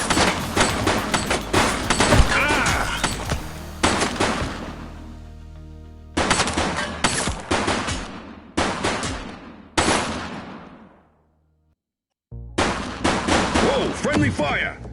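Bursts of gunfire in a sheriff crime-chase video game: loud, close volleys of rapid shots in several separate clusters, each trailing off into echo, with brief silent gaps between and a little talk.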